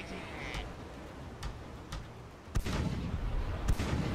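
Ship cannons firing during a naval battle in the Blackwake game, heard as a few distant, muffled booms under a low rumble of ongoing combat, with the heaviest blasts late in the stretch.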